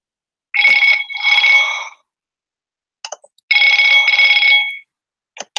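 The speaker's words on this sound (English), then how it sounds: "I love the phone ring." A telephone bell rings loudly and close by: two long, trilling electronic rings separated by a pause, with faint clicks between them and no voices.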